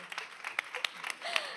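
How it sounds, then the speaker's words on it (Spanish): Light applause from a small audience at a roundtable on women and equality, a scattering of separate claps over a couple of seconds with voices mixed in. "Un aplauso para Julieta, porque es fantástica."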